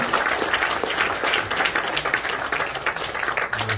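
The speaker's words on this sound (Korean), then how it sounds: "다시 한번 큰 박수로 환영하겠습니다" An audience at a peace summit launch ceremony in a hotel banquet hall breaks into sustained, dense applause welcoming attendees, loud and close throughout, with a faint voice briefly audible beneath.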